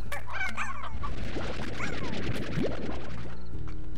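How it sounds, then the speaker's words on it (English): Stony hens in the video game Slime Rancher cluck and squawk in quick bursts, with game sound effects and chirps layered over a steady background hum. "There's some stony hens"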